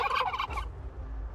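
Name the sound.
turkey gobbling in the video game Last Day on Earth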